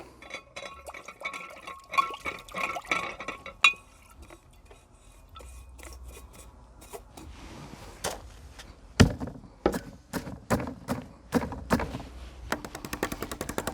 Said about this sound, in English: now we're just going to wash off our brush